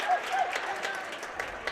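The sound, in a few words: family in the gym crowd clapping at a volleyball game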